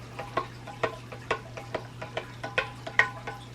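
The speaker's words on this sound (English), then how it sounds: "We're going to give it one last stir to get the yeast all throughout the" A spoon stirs yeast through a mead mixture of honey and water, making a quick run of light, irregular clinks and scrapes against the container, close and fairly quiet with no talking.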